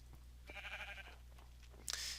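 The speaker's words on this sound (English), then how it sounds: "Now I just heard a sheep" A Minecraft sheep lets out a brief, quiet bleat over low game ambience, followed by a sharp brighter sound near the end.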